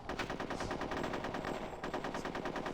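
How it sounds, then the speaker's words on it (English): Dual SMGs in the video game Conker's Bad Fur Day fire in a continuous rapid burst, rattling evenly and loudly for the whole stretch without pause. "The dual SMGs are better. They're more accurate and less reload time."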